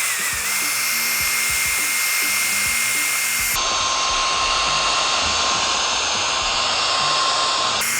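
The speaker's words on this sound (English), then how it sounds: "So take our mixer, we're gonna make sure that we're hitting close to the bottom of the tank," An electric mixer running in a tank of salt nutrient solution, a loud continuous motor whine with steady whooshing churn, shifting pitch partway through, close and constant.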